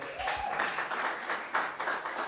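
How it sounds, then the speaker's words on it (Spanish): A church congregation claps together in a steady, moderately loud round of applause that continues throughout. "Si le va a dar un aplauso al Señor, hágalo con ganas."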